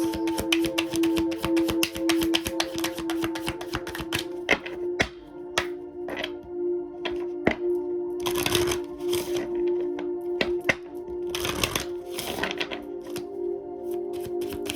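A deck of oracle cards being shuffled by hand, a close series of crisp riffling taps and flutters with short pauses between runs.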